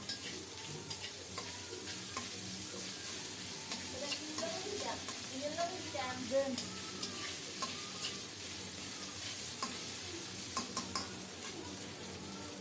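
Potatoes fry with salt and a spoonful of ground cumin paste, a soft continuous sizzle with light stirring and scraping of a utensil against the pan, close by and without talk.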